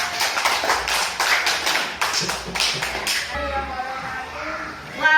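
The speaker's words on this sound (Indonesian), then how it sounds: "beri tepuk tangan untuk kelompok 3" A classroom of students claps for a student group, giving several loud, rhythmic bursts of clapping close by, then falling quiet as a voice and light shuffling follow.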